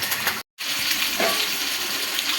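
Fish frying in a pan as a steady broadband sizzle that fills the whole stretch, with a brief complete dropout near the start, no voices present.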